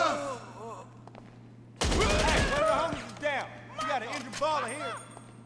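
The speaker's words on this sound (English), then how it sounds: "Mag dump." Rapid automatic gunfire empties a full magazine in GTA 5 Online, a dense loud burst of about a second standing out against quieter game sounds, with chirpy effects and a steady low hum throughout.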